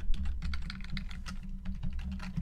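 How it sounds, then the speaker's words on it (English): Continuous keyboard typing while code is entered for an Unreal Engine 4 C++ first-person character controller, a steady run of close, quick key clicks over a low background hum, with no talking. "So we're going to go ahead and type in auto possess player."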